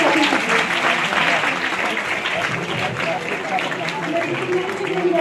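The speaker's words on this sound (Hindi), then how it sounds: "रितु मैम भी जोरदार ताली उनको" Clapping from a school audience at a maths fair fills the whole stretch, steady and fairly loud, with voices of the crowd mixed underneath.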